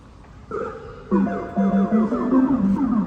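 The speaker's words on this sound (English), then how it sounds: "And you can see I actually customized my lock sound." A customized lock sound from a Tesla Model 3 Highland, a loud siren-like electronic melody of rising and falling tones that starts after a brief pause and repeats in a wailing pattern.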